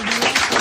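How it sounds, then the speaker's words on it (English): Thin, scattered applause for school contestants at an educational event for basic schools on the Homowo festival in Ga land, a brief patter of light clapping from a small crowd. "The applause is weak."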